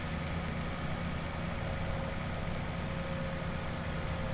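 A Claas tractor engine in the video game Farming Simulator 17 runs at a steady, even drone with a low rumble and a faint tonal hum, unbroken throughout and with no talk.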